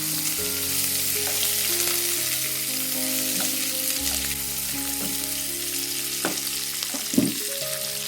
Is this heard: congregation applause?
no